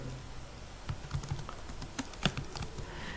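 Steady clicking on a computer keyboard while HTML table code is entered: a quiet run of light key taps with a few louder strokes, over a constant background hiss.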